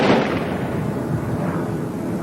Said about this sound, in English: you're hearing rapid automatic weapons fire somewhere in the vicinity of this shot on Laurel Canyon Boulevard